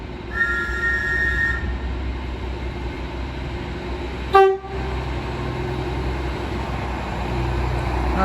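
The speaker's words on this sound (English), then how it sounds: "Nice depot whistle and tone from the driver" A short, sharp train horn blast sounds once near the middle, standing out over a steady low rumble of idling machinery at a London terminus station.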